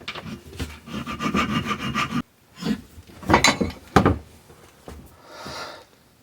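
A metal file rasps against a custom bike light mount for a Soma Porter rack in dense back-and-forth strokes, loud and close, with a short pause midway before more strokes resume.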